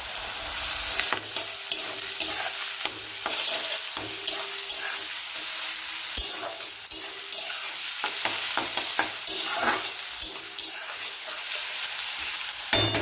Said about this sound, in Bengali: রসুন বাটাটা দিয়ে দেব।